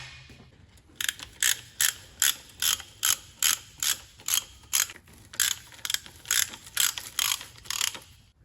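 Ratchet wrench tightening transmission pan bolts on a Holden VS Commodore automatic, a rapid run of sharp clicking bursts repeated in steady strokes, close and loud with no talking.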